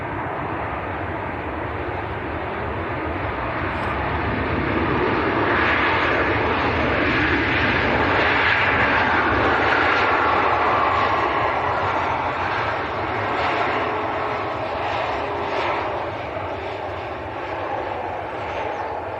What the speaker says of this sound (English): This aircraft should have to backtrack if the NOTAM's right.